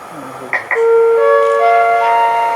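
Polish railway station platform at Łowicz Główny, where a station announcement chime for a passenger train arriving from Warszawa Wschodnia rings out: two short bright tones, then a sustained layered electronic melody, loud and close, with no speech.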